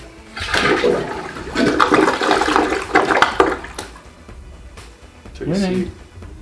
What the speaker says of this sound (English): now we're just testing the toilet. So we're gonna flush it.